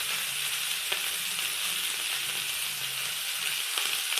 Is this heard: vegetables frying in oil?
yes